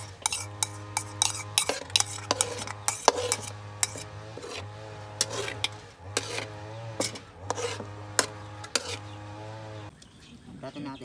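Potatoes and eggs stirred in a pan in a countryside kitchen, a steady run of sharp utensil scrapes and clinks in a regular rhythm over a faint hum, stopping near the end.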